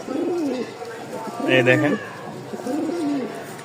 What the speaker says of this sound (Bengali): এটা ছাড়ার সাথে সাথে দেখেন খুব ভালো জাতের একটা কবুতর মাশাআল্লাহ, নরমাদি।